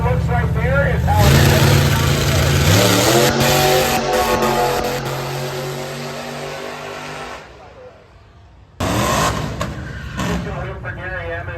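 A 23T Roadster drag car at a drag strip revs hard with no mufflers, a loud, raw, unmuffled engine rising and falling in pitch. It drops away almost to silence, then bursts back in. A commentator talks over it throughout.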